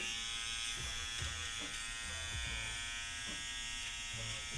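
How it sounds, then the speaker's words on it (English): A low-cost electric nasal trimmer from a grooming kit buzzes steadily and close up throughout, its motor whine broken by brief changes in tone, while a voice talks softly underneath. "It's the nasal tool, or nasal trimmer."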